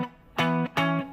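Two strummed barre chord hits on a distorted electric guitar, a blues pattern in E, each ringing briefly before cutting off, close and alone.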